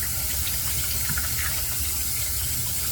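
Steady rush of running tap water as a razor is rinsed under it, close and continuous with faint splashing, no talking.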